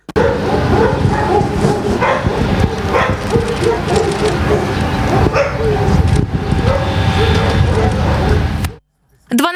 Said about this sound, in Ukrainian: Пес і досі у стресі погано їсть та майже нікого до себе не підпускає.